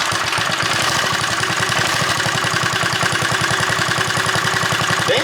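A JCPenney Bird minibike's small engine putters close by at a fast, even idle, its rhythmic pulses steady and unbroken, with no voices.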